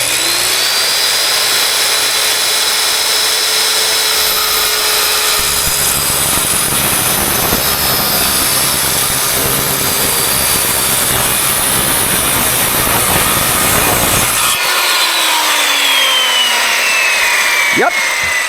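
Circular saw ripping through wood for an outdoor step replacement, a loud, steady high whine that carries for about fifteen seconds, then spins down as the blade stops, with no talk over it.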